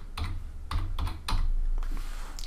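Quick clicks of keys on a computer keyboard as a short word is typed, a handful of crisp close keystrokes in a quick irregular run.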